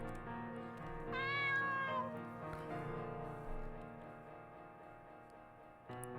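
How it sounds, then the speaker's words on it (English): A cat in the video game Seraphic Blue gives one clear, drawn-out meow over steady background game music. "Isn't this cat cute?"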